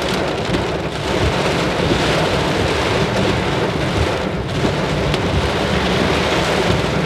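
Heavy rain pours down at night in a storm, a loud, steady broadband roar that never lets up, with occasional thunder rumbling beneath it.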